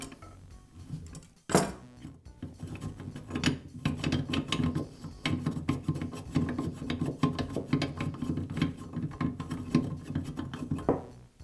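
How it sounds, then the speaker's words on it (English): A worn fishtail point on a Southland earth auger being unscrewed by hand, giving a continuous close metallic rasping and grinding rub of threads turning, steady with a sharp knock near the start. "The fishtail point just unscrews."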